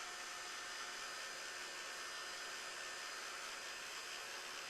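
Hair dryer blowing steadily at close range to dry ink on thick ivory cardstock, a continuous loud airy whoosh with an even motor drone throughout and no talking.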